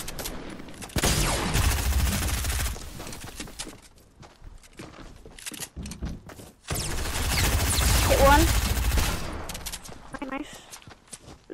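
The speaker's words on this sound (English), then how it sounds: "Somebody else is shooting at me." Fortnite gameplay gunfire comes in two loud, dense bursts of rapid shots with quieter stretches between them, mixed with game effects.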